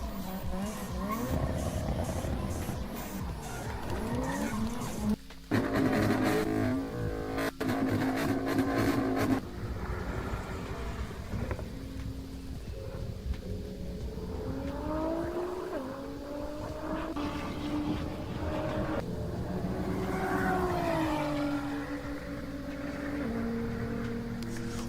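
Cars from a car compilation rev and accelerate loudly with tire squeals and skids, engine pitches sweeping up and down, with music running throughout and a few sharp cuts between shots.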